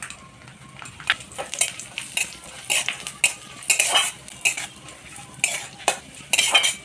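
Cashews, almonds and raisins lightly frying in ghee, heard as a soft sizzle beneath frequent close metallic clinks and scrapes of a spoon stirring in the pan.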